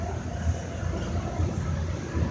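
A Boston Green Line subway train runs at Boston Common on the first line of the oldest subway in the US, giving a steady, close low rumble throughout with no talk.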